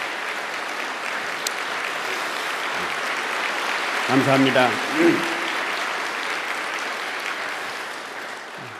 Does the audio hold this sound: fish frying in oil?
no